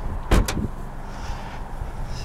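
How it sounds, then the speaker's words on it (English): A car door on a 2017 Toyota Yaris iA shuts with a single solid, close thud, followed by a low steady background hum. "Somebody closed my door."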